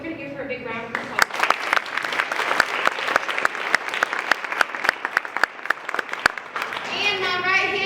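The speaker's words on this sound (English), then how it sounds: "we're going to give her a big round of applause" An audience at a high school show bursts into loud, sustained applause with sharp individual claps, framed by a speaker's voice before and after.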